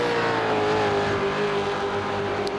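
A Team 18 Holden Commodore race car in a Supercars esports game at Phillip Island drones steadily at high revs, a continuous engine tone that holds throughout.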